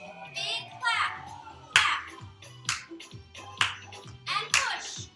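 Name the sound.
big hand clap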